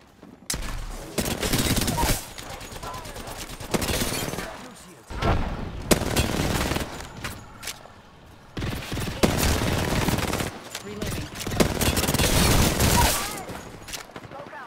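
Rapid bursts of video game shooter gunfire crackle in loud clusters with brief pauses between volleys, alongside game effects and faint voice-like sounds.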